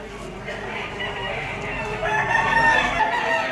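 Gamecock stags, yellow-legged and round-headed, crow at a fighting-cock market in Lipa, Batangas; several overlapping crows ring out near and loud over steady background crowd noise.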